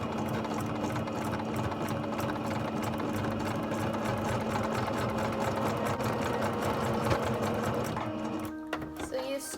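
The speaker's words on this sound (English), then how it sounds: "I'm just gonna sew a straight line" A sewing machine runs steadily, stitching a straight seam in skirt fabric, its rapid mechanical whir close and continuous before slowing and stopping near the end.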